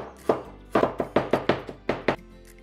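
A knife chopping peeled fresh ginger on a board, about nine sharp, close thunks in an uneven rhythm, alone with no talk.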